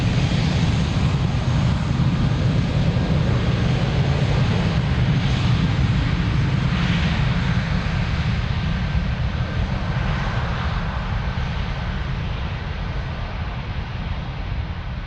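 An airplane takes off at Lisbon Airport, its engines a loud, steady, broadband roar that holds throughout and eases off only slightly toward the end.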